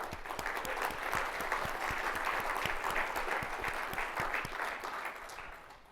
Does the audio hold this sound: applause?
yes